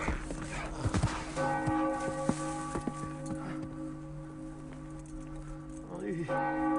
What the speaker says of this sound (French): Tu entends les cloches du couvent?